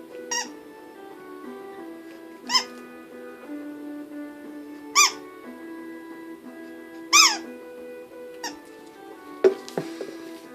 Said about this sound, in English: And by magic, I get this cuke, this squeak.